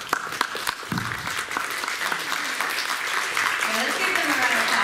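A crowd at a high school Model UN closing ceremony breaks into applause, scattered claps at first building into a steady, fuller roar of clapping that grows louder toward the end.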